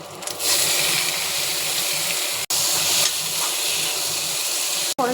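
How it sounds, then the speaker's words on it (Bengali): Potatoes fry with ginger paste in a pan, giving a steady, loud hiss and sizzle that runs almost unbroken through the clip, with two very brief dropouts. "আদা বাটাটা দিয়ে ভেজে নেবো ভালো করে"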